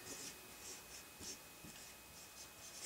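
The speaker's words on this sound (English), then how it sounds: "I'm just gonna write the 30." Pen or pencil scratching out a number on paper during a children's math lesson, a few quiet strokes and scrapes close by, faint and intermittent with no talking.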